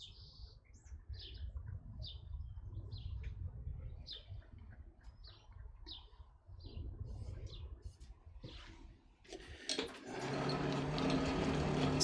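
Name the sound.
hand-cranked blower on a coal forge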